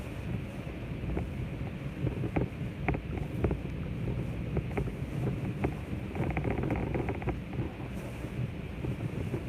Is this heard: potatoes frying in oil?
no